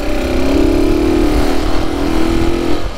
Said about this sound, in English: with that up and over exhaust, the bike actually sounds brilliant